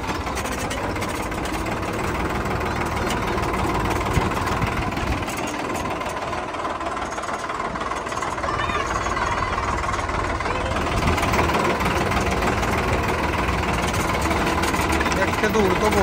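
A modified New Holland 5630 tractor with a turbo runs steadily and loudly, its engine rumbling and knocking without pause for the full stretch.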